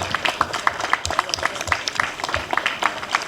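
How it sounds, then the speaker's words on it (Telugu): Many hands keep clapping as a guest walks up onto the stage at a statue unveiling ceremony, brisk irregular applause, close and steady, with a faint background murmur. "చప్పట్లు ఆగొద్దు మేడం, పైకి వచ్చారు."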